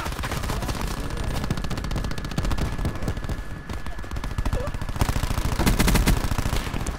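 Rapid automatic fire from a Cordite submachine gun in an online shooter game rattles on in dense, sustained bursts. It grows louder and heavier near the end, mixed with other game effects and occasional talk.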